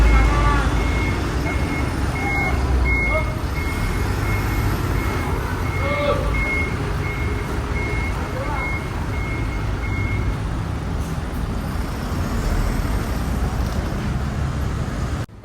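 A coach bus reverses and maneuvers over sandy ground onto paving blocks, its reversing beeper repeating steadily over a constant engine rumble and nearby traffic noise, with faint talk in the background.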